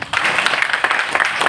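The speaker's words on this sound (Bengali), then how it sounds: "তো বিরাট কোহলির জন্য হাততালি হোক" Audience applause for cricketer Virat Kohli at a Digit Insurance event, a steady dense clapping that starts abruptly and fills the room, continuous and fairly loud.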